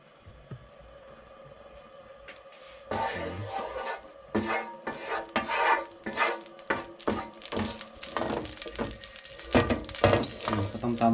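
Olive oil sizzling in a pan while cooking Spanish paella, quiet at first, then bursts of frying sizzle and clattering of a utensil against the pan in an irregular rhythm, close up.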